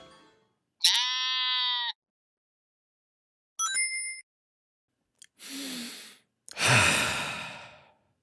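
A cartoon sheep in a My Little Pony episode gives a drawn-out bleat, followed by a short chime and then breathy sighing sounds, all set against silence.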